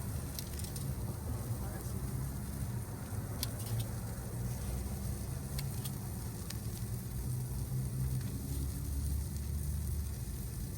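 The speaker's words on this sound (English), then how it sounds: "Fat hits the fire. Now we're getting the sizzle." Fat from kefta kabobs drips onto a grill fire, giving a steady crackling sizzle with scattered pops and a low rumble underneath, close and continuous.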